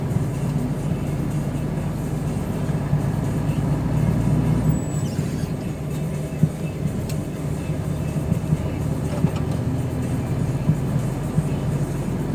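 A truck rolls along a hot Brazilian road, heard from inside the cab as a continuous low engine drone and road rumble with faint rattles, steady throughout and without talk.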